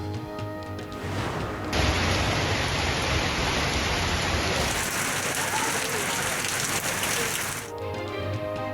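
Rain pours down steadily in Karachi, a dense, loud hiss that swells abruptly to a heavier downpour for several seconds and then eases back to a lighter patter.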